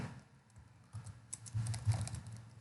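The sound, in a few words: typing a command on a computer keyboard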